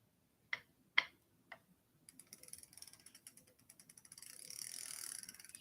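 Ratcheting clicks while a right-side pedal is threaded onto the crank of a Watt Wagons Hydra e-bike: three sharp separate ticks, then a rapid run of close, steady mechanical clicking that grows louder.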